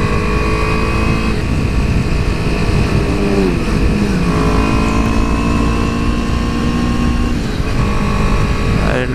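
Motorcycles pass along Azusa Canyon road, their engines rising and falling in pitch over a steady, loud engine and wind roar that runs throughout.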